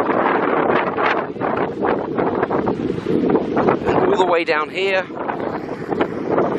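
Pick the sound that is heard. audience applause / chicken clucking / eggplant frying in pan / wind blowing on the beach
wind blowing on the beach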